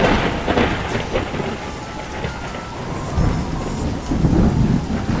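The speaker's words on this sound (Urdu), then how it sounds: "آسمان پر بادل چھا گئے، تیز ہوا چلنے لگی اور پھر بارش شروع ہو گئی" Heavy rain falls steadily during a thunderstorm with strong wind, while low thunder rumbles swell and roll in bursts, loud and close, with no voices.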